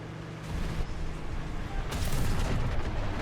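A Chieftain Mk.3 tank cannon in War Thunder fires once, a deep heavy boom that lingers before rising into a rumbling roar, fairly quiet overall with an engine drone underneath.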